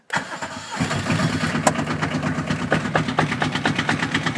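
Kubota engine cranking and catching after a rocker arm adjustment, then settling into a steady, rapid idle. Loud and close, with no talking.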